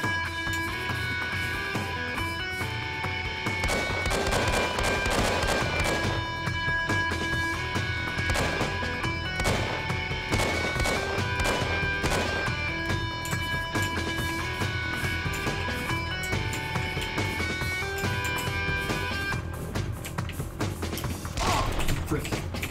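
Enemy gunfire in the shooter game Strike Force: Arctic Storm, dense bursts of shots and heavy impacts over a constant music bed, loud and continuous with brief lulls.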